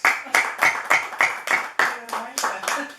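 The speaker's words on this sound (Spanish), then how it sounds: "Les pido un fuerte aplauso para ella." Rhythmic clapping at a book presentation, about ten evenly spaced, loud unison claps beating in steady time, with a faint voice underneath.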